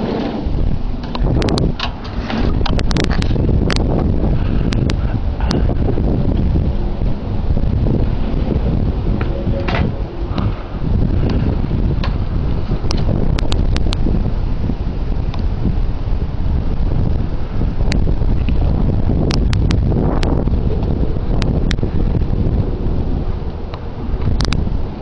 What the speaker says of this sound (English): it's like the wind's pushing towards me